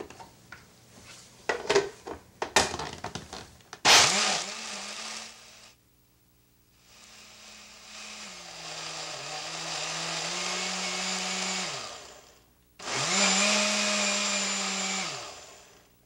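A blender purees peanuts with ginger and water in two long whirring bursts, after a few clinks and taps of setup; the motor's pitch dips as the thick mixture churns, then stops and starts again.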